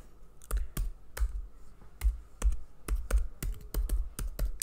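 Typing on a computer keyboard, heard as irregular bursts of sharp, close clicks of varying loudness with short pauses between them, all on their own with nobody talking.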